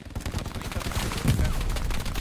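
Gunfire rattles through a shooting video game match in dense rapid bursts, loud and continuous like a fusillade, with brief talking mixed in beneath the shots.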